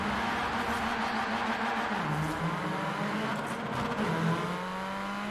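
A road car's engine revs hard and accelerates at high speed, its engine tone rising and shifting steadily through gear changes, loud and continuous with no talk over it.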